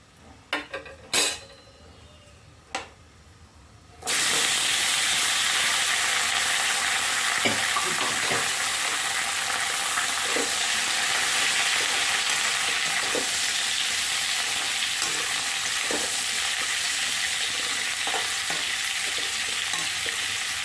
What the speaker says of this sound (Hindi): अब मैं इसमें ये कटा हुआ जो आम है उसको डाल देती हूँ।